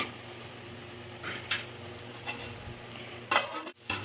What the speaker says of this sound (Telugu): ఫ్రై అవుతున్నాయి, ఆయిల్లో ఫ్రై అవుతున్నాయి.